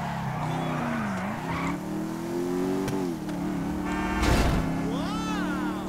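A powerful motorcycle is ridden in Grand Theft Auto V, its engine droning and shifting pitch as it speeds up and slows. Tire squeals and a sharp crash-like burst come through near the end.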